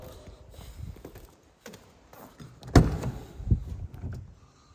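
A 2016 Jeep Wrangler Rubicon Unlimited door clunks open with a mechanical click and a solid thud, followed by a second softer knock, close by with faint background movement.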